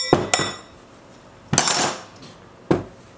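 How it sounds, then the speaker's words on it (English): Clutch basket being popped off a Yamaha WR450F dirt bike, three sharp metallic clanks spaced out over a few seconds, close and loud with quiet gaps between, no talking. "We're gonna pop the basket off."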